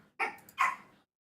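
Puppies let out two quick barks in close succession, sharp and fairly near indoors, followed by silence.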